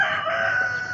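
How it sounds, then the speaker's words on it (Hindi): A rooster crows among kept chickens at a housing society garden, one loud, close, sustained call filling the whole moment. "यहाँ पर ये देखें इन्होंने मुर्गियाँ वगैरह भी रखी हुई हैं"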